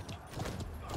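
Horse hooves clip-clop in a video game battle, a short, fairly quiet run of quick, even hoofbeats with no voices.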